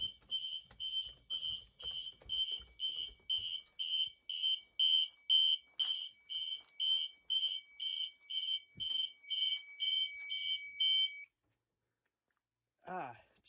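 System Sensor Classic fire alarm horns blare during a fire alarm system test, a loud, rapid series of steady electronic honks pulsing in a regular rhythm for about eleven seconds before cutting off abruptly, followed by brief handling noise.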